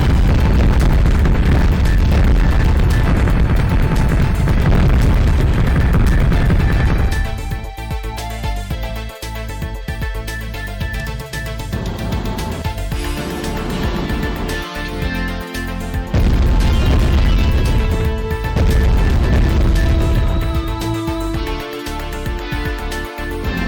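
Dense, sustained rumble of explosions as buildings are bombarded in a video game, loud booms and crashes layered over continuous noise with a brief drop in intensity midway, no voices.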